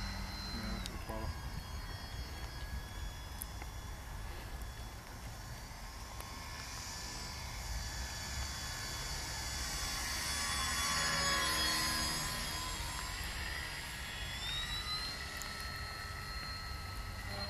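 A small moped motor runs steadily and weakly, seeming to lack power, with a droning whine that swells slightly midway and then eases, heard outdoors with no clear voices.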